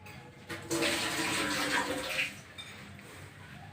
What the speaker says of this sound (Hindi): तो इसका पानी मैं ड्रेन करूँगी।